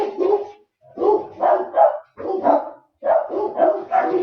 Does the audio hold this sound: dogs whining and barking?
yes